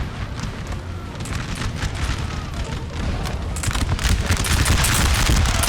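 Musket volleys crackling in Napoleon: Total War, dense overlapping gunfire pops and booms from massed troops, steady at first and then growing louder and thicker toward the end, with faint voices beneath.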